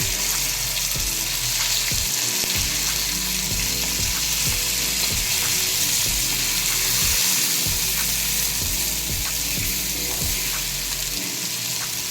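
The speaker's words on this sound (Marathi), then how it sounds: "आता मी ह्याला दुसऱ्या साइडने पण छान भाजून घेते।" Pomfret fish shallow frying in a pan, a steady loud sizzle and crackle with recurring soft thumps and scraping as the fish is turned, no talking.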